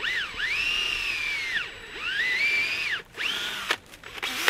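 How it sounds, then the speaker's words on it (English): A power drill whines steadily as it bores about an inch into a maple tree trunk for sap tapping, rising and falling in pitch over several long pushes before stopping and starting briefly near the end. "So I'm just drilling a hole right now about 1 inch inside."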